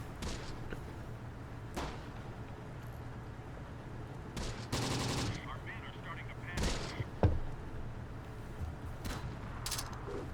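Two grenade explosions in the wartime strategy game Close Combat, each a sharp, heavy blast standing out against scattered distant gunfire and thuds, the pair landing in quick succession a couple of seconds apart.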